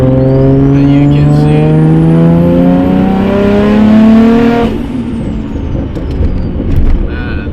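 A Nissan R32 GT-R with an RB26 engine and HKS V-cam pulls hard in third gear from low revs, its loud, close engine note climbing steadily in pitch for several seconds before abruptly lifting off into a rougher idle-like rumble.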